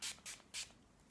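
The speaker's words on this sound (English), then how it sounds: "I'm just going to spray it in front of me." Hair spray sprays in three quick, soft hissing bursts, close by and quiet, separated by brief pauses.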